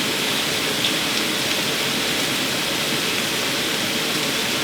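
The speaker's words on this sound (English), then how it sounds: "Then we're going to give them a good wash," Roughly cut potatoes washed under running water for leek and potato soup, a steady close rushing splash that continues without pause and without voices.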